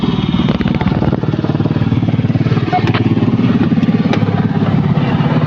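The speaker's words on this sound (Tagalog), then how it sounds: "Meron tayong mag-video ang helicopter na palapag." A helicopter lands at an airport where a Cebu Pacific jet waits to take off, producing a loud, close, steady engine roar with a rapid rotor throb that persists throughout and no talking.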